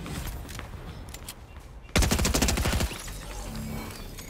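A loud burst of rapid Fortnite gunfire erupts midway, dense automatic shots for about a second, with fainter shooting and game ambience before and after.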